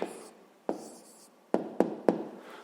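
Pen or chalk writing out a math answer during a fifth-grade lesson: scratchy strokes broken by several sharp taps, close and quiet with no talking.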